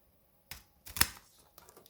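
A Monstera deliciosa stem, rotting, is snipped near its base, giving a few short, close cutting and crunching snaps, the sharpest one near the middle, with small handling rustles between them.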